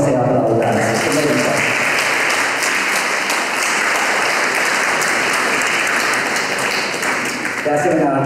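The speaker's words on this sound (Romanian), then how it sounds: "Vă rog foarte frumos să-i aplaudați." A room full of people claps for exhibiting teachers at an art show in the Casino in Cluj, a sustained, dense round of applause that starts abruptly and fades near the end.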